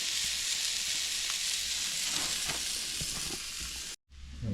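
Onion sizzling and frying on a grill during a spring camping trip, a steady close hiss with scattered pops and crackles that cuts off abruptly near the end.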